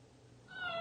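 A single short cat meow rises out of faint background hiss, brief and rather quiet.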